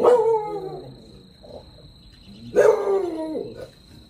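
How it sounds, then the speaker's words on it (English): Several dogs bark in two loud bursts of overlapping barks and yips, with quieter barking in between; a steady high tone runs through the background. "Dogs are awake, as you can tell."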